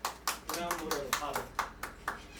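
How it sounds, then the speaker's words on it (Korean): Several sharp hand claps, about eight of them at a steady beat, land over someone talking at a live hip-hop music show. The claps are close and crisp, and the voice runs beneath them. "칠 거면 박수를 같이 치는 게 낫지 않을까?"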